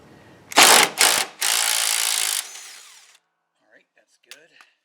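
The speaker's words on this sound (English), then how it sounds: "it is a 3/4 inch socket that will take this bolt off" Ratchet wrench with a 3/4 inch socket loosening a bolt on a John Deere 100 Series lawn tractor: two loud short bursts, then a sustained louder run of about a second, followed by quiet and a few faint clicks.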